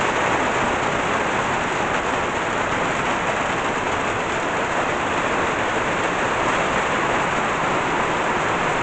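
Heavy midday rain falling hard, a thick, steady roar of water striking surfaces nearby, constant in loudness across the whole stretch with no talking.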